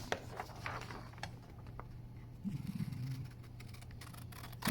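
Scissors cut through cardboard while a homemade phone stand is being made, giving faint, scattered snips and small clicks at close range in an otherwise quiet room.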